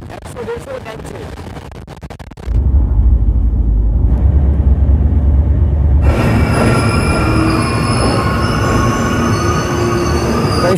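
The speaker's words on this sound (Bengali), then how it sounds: "ট্রেন আমাদের এসে দাঁড়িয়েছে নিউ ফারাক্কা জাংশনে।" A passenger train, the Sairang Express, rumbles and rolls heavily along the tracks into New Farakka Junction, with rising wheel and carriage noise and a faint squeal, steady and close.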